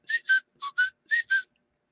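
A person whistles a short tune in six crisp, clear notes in pairs, then stops into silence, heard alone.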